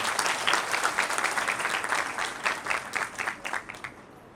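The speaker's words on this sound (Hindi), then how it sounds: "एक बार जोरदार ताली हो जाए" Audience applause at a talent award ceremony in Panchkula, a dense steady clapping from many hands that holds loud, then thins into scattered claps as it fades toward the end.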